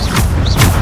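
Bombarda explosion spell cast in the Hogwarts Legacy video game, a short, loud boom with a heavy low-end burst and a quick rumbling tail, part of rapid combat.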